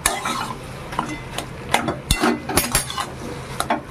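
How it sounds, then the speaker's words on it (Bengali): A spoon scrapes and clinks in a pan as a potato and peanut curry is stirred, with a steady rhythm of close knocks and a faint sizzle underneath. "এবার ভালো করে মিশিয়ে নামিয়ে দেব।"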